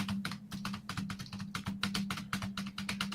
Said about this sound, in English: people typing on a keyboard